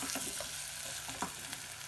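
Spices, potato and onion fry over low heat in a pan, a soft steady sizzle broken by a few quick scraping stirs, close and quiet with nobody talking.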